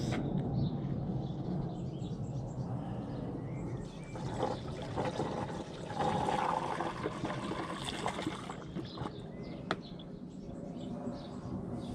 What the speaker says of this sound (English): Now I'm going to put a litre of water in this.